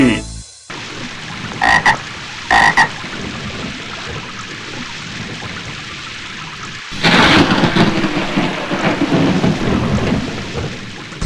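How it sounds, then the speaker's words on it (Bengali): Thunder rolls through a rainstorm over a continuous chorus of loud croaking frogs, with a heavier surge of rain and rumble toward the end. "বিদ্যুৎ ঝলকানির পরই কেন বজ্রপাত হয়?"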